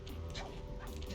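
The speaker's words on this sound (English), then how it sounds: "This is definitely the dog from Looney Tunes." A cartoonish dog in the co-op video game It Takes Two gives short yipping barks and whimpers, close and clear over game music and background sound.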